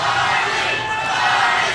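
Crowd at an MMA pro fight at Hardrock MMA 89, a loud dense wall of voices chanting and roaring together, steady throughout and heard close, with no clear individual speech.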